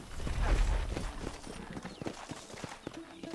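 A horse's hooves in the video game Red Dead Redemption, ridden by John Marston near a fort, clip-clopping in a steady walking rhythm, close and moderately loud, with a possible brief whinny.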